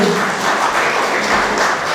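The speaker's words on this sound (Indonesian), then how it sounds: "tepuk tangan untuk Pak Faisal Basri." A studio audience applauds Faisal Basri on a televised talk show, with continuous close applause that stays even and fairly loud for about two seconds.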